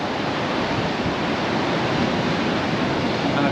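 Continuous surf noise at Cala Major, Mallorca, a dense broadband wash of waves breaking, steady and fairly loud with no voices.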